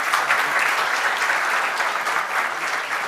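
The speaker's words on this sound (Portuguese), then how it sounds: "a salva de palmas para os nossos professores" An audience at a theology lecture gives a steady, dense round of applause for the teachers, loud and even throughout with no speech over it.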